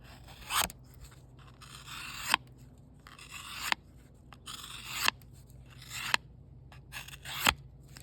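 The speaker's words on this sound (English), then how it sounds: "Let's see if it'll cut this poker card here." The blade of a 1988 Case olive green bone single-blade Rail Splitter pocketknife slices through a poker card in a series of short, crisp scraping cuts, each ending in a sharp snick, close and quiet with no talk.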